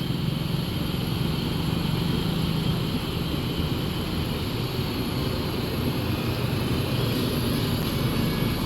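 An MPM bus engine rumbles loudly and steadily as the bus pulls away, a dense, unbroken drone with no voices over it.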